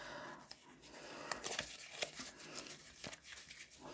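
A deck of playing cards is shuffled during a card trick, giving faint, close papery riffles and soft slaps in quick irregular bursts.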